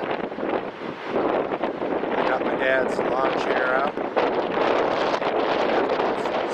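Steady strong wind at an RV park in Yachats buffets the microphone with a roaring rush throughout, while a person speaks briefly over it.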